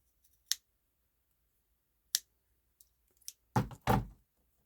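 Craft knife or scissors cutting and shaving a small diorama piece, a handful of sharp, isolated snips and clicks spaced across quiet pauses, ending in two louder closely spaced cuts.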